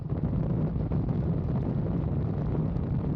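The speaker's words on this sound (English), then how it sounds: "Kind of windy." Steady, loud wind buffeting the microphone while riding a Honda Gold Wing motorcycle pulling a trailer at highway speed, a constant low roar with no break across the stretch.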